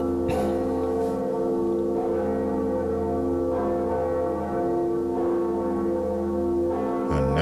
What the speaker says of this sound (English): And there we go, first bell rung.